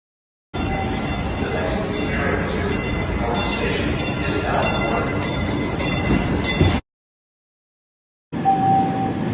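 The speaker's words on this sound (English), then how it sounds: "The next train to North Station is now arriving." An MBTA subway train in Boston rumbles and clatters along rails with rhythmic clicks and metallic clinks as it arrives, then the sound cuts out briefly before resuming.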